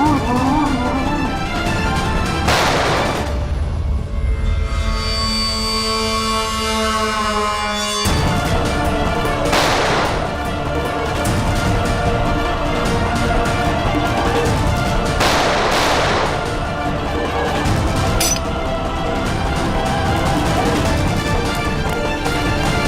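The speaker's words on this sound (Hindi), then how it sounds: "मैं गोली चला दूंगा।" Several gunshots ring out in a CID crime drama scene set in a jungle. The sharp, loud blasts are spaced irregularly over a dense backdrop of music and ambience.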